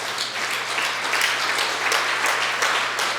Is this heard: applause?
yes